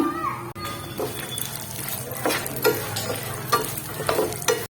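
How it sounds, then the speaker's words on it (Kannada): Almonds frying in ghee in a pan, with scraping stirs and clinks of a spatula against the metal over a light sizzle, sharp taps recurring every second or so, close up. "ಗೋಡಂಬಿನ ಫ್ರೈ ಮಾಡ್ಕೊಂಡ ನಂತರ ಅದೇ ಪ್ಯಾನ್ಗೆ ಈಗ ನೋಡ್ರಿ ಬಾದಾಮಿನ ಹಾಕೊಂಡು ಫ್ರೈ ಮಾಡ್ಕೊಳ್ಳೋಣ"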